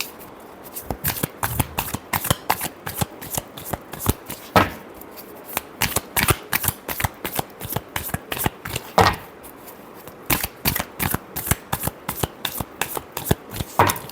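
Tarot cards are shuffled by hand in a long run of crisp, rapid riffles and slaps, close and clear, with brief pauses between bursts.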